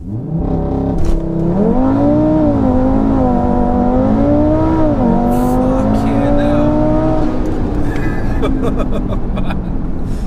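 A stock-engined 740 bhp Audi RS3 accelerates hard, its engine note climbing and dipping through gear changes in loud, close rising tones, followed by a brief higher whine; a man swears over it.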